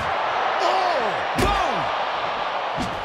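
A shovel slams down on a wrestler in the video game WWE 2K24 during a backstage brawl, giving a few heavy metallic impacts over crowd noise, with a commentator talking throughout.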